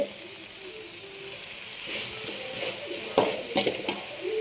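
Banana flower and drumstick leaves being sautéed in a pan for poriyal give a soft, steady sizzle broken by several clattering stirs of a spoon against the pan in the latter half.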